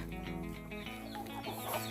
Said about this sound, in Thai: ให้อาหารไก่ค่ะ